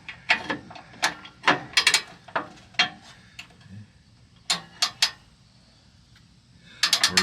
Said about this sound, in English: Might have to just get a wrench.